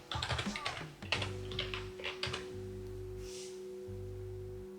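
Quick, irregular keystrokes clatter on a computer keyboard in a run of close taps, easing off partway through, with a faint steady tone humming underneath.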